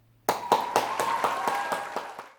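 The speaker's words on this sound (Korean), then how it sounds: "박수를 보내드리겠습니다" A small group claps for a female violent-crimes detective after an interview, about nine distinct, evenly spaced claps over two seconds, fairly close and fading out at the end.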